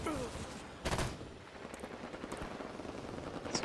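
Battle rifle gunfire in the video game Halo 5, sharp bursts of shots over a busy game soundscape, close and loud, with a person talking faintly underneath.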